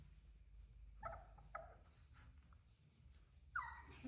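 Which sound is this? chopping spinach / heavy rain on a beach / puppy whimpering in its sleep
puppy whimpering in its sleep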